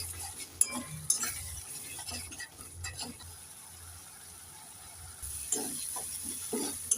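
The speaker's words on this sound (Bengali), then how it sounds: "এবার নেড়ে চেড়ে তিন চার মিনিট ভালো করে মশলাগুলোকে কষে নেব আমি" Spices with mustard and poppy seed paste frying in a pan for an egg curry, stirred with soft scraping and clinking strokes over a faint steady sizzle, close by.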